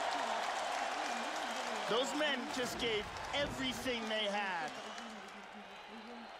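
A crowd at an Eagle FC 44 MMA event applauds and cheers after the Tyrone Spong versus Sergei Kharitonov fight, a steady wash of clapping beneath a commentator's voice.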